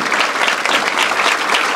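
An audience applauding author Dnyaneshwar Jadhav at a motivational talk: a dense, loud burst of many hands clapping that holds steady for a couple of seconds.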